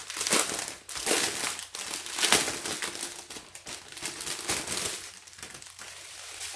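The plastic packaging of a diamond painting kit is opened by hand. Close, loud bursts of crinkling and crumpling come in irregular waves with short pauses between them, and no one speaks.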